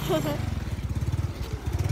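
A motorcycle engine runs close by with a steady, pulsing low drone that holds throughout, and voices talk over it.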